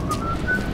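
A brief, thin whistled tone from a character in BioShock on Xbox 360, a faint steady pitch drifting slightly upward over a low rumbling game ambience.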